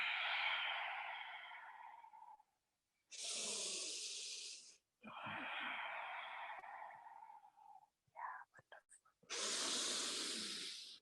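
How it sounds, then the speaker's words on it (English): Deep, slow breaths during a vinyasa yoga flow, long hissing inhales and exhales close to the microphone, alternating with brief silences and a few short breathy bursts. "Stay 2 more big,"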